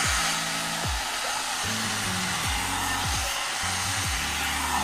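A one-step hot air brush dryer blows steadily while drying and straightening hair, a constant close airy roar with a shifting motor hum and brief pitch dips as the brush is moved.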